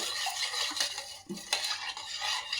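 A spoon stirs a cocoa powder mixture for a simple dessert, giving soft repeated scraping and clinking against the container over a steady background hiss, close and without talk.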